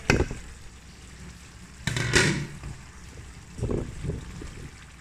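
Aloo lobia, potatoes with long beans and spices, cooks in a pan, giving a continuous soft sizzle and bubbling with a few louder hissing bursts as the vegetables fry.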